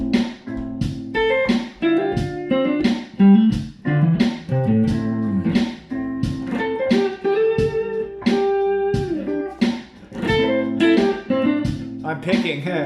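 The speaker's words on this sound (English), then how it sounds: "And if you want to keep just to put hammer-ons, it'll sound like this." An acoustic guitar runs a hammer-on exercise: quick clusters of plucked notes with hammered follow-ups in a steady, slightly uneven rhythm, close and fairly loud, with no talking.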